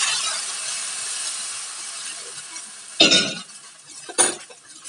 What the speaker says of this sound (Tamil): கல் சூடாகிடுது. இப்போ நம்ம தோசை வச்சுருவோம்.